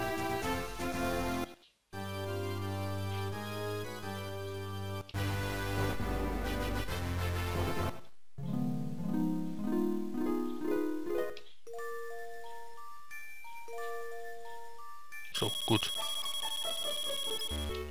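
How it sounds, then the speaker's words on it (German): Several short snippets of electronic music from the video game The Legend of Zelda: The Minish Cap play one after another, bright melodic tones and beeps, separated by brief gaps, fairly loud. "Jetzt kann man sich halt hier die einzelnen Musikstücke, die diesem Spiel vorkommt, anhören."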